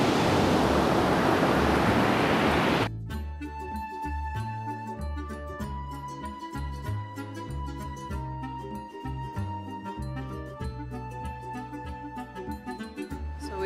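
Ocean surf at a beach in Santa Teresa, Costa Rica at low tide, a steady broadband wash for about three seconds before layered music abruptly takes over for the rest.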